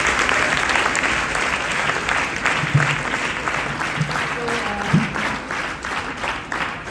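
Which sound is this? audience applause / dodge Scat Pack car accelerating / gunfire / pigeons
audience applause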